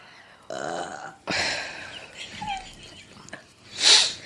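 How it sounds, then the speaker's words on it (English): Several separate burps, some long and croaky, one short and higher, in a quiet room with no talking. "now I have a million burps"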